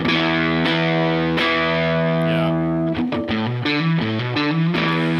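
Electric guitar through a Keeley Monterey Rotary Fuzz Vibe pedal, first sustained fuzzy chords with a swirling wobble, then a run of quicker distorted notes, loud and continuous with no talking.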